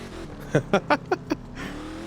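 A car in Test Drive Unlimited 2 revs in five sharp, evenly spaced bursts over a steady idle, close and loud, then settles into a softer sustained engine drone.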